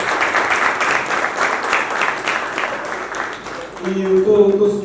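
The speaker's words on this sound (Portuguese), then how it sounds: "um aplauso para todas as mulheres do movimento" Audience applause at a hip hop talk event, a steady crowd of hands clapping for about four seconds before a voice comes in over the fading claps.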